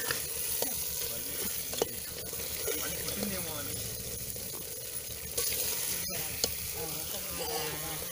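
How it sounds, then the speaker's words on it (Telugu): Chicken fries in a pan for a village-style curry with tomato, coriander and chili powder over a low flame, a steady close sizzle with stirring scrapes as a person talks. "చికెన్ మంచిగా ఫ్రై కావాలి."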